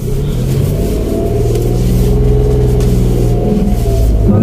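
A car engine revs loudly and steadily up close as the pedal is pumped, a dense, continuous rumble with small surges and no talking.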